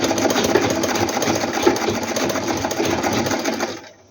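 A sewing machine stitches knitted baby jacket pieces together, overlapping edges without seam allowance: a continuous, close, steady whirring run that stops abruptly at the end.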